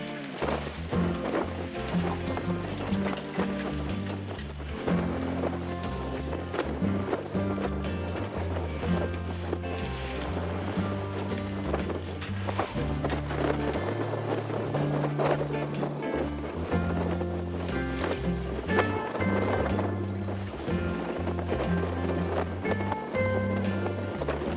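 An Alberg 30 sailboat under sail on the ocean with no motor, steady wind buffeting and water rushing along the hull, broad continuous noise with no voices.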